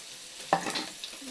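Beet greens dropped into a browned, crisply fried mixture in a pan give a sudden sizzle and stirring clatter, followed by a softer continuing fry, close and fairly quiet.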